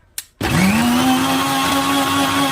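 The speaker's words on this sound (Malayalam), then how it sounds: "നമുക്കിനി പാലിന് വേണ്ടി നാളികേരം മിക്സിയിലിട്ട് അടിച്ചെടുക്കാം" A mixer grinder whirs loudly after a short start-up burst, blending coconut for coconut milk, with a steady motor hum that holds its pitch to the end.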